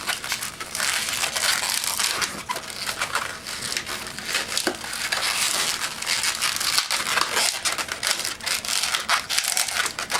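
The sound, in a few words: twisting a balloon into a balloon animal rifle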